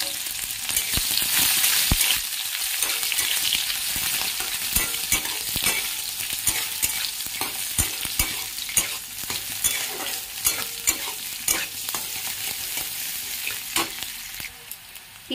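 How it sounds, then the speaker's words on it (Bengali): Onions fry in hot oil in a wok while being stirred, a continuous close sizzle broken by repeated scraping and clattering strokes of a spatula, no talking. "দুটো পেঁয়াজ ভেজে নেব,"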